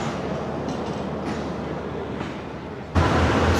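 A railway coach is coupled to a locomotive at Sukkur station, heard as a steady rumble of idling train machinery, then a sudden louder jolt of noise near the end.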